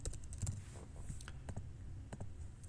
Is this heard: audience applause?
no